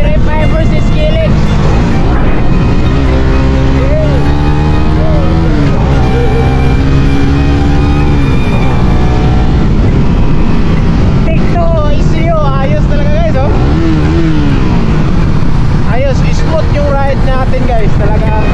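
An 18-horsepower motorcycle engine runs loud and close, revving up and down in repeated swells while people talk over it.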